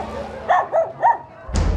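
Several dogs kept as pets inside a residential compound let out three quick, close barks in a row, followed by a dull thud.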